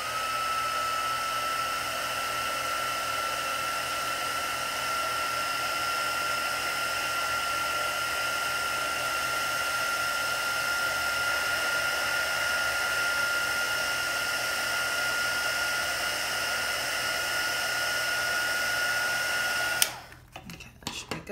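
A handheld heat tool blows a continuous, even whirring stream of hot air for around twenty seconds while drying wet watercolour paint on paper, then cuts off abruptly, leaving a few faint clicks and handling noises.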